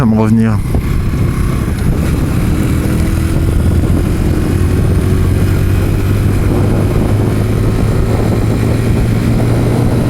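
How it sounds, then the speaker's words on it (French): A Mash 125 motorcycle with its original exhaust idles close by, making a steady, loud engine drone that holds for ten seconds after a brief rising rev at the start. "Celle-là c'est l'échappement d'origine. Elle fait déjà un beau bruit hein."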